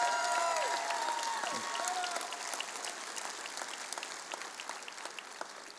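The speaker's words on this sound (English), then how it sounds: "Can we give them one more big round of applause?" Audience applause after a children's performance, a dense burst of clapping from a crowd with a few cheers and whistles early on, tapering slightly over several seconds.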